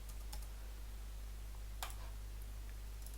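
Several quiet keystrokes on a computer keyboard come in short, scattered bursts over a steady low electrical hum.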